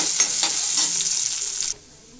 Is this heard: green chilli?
yes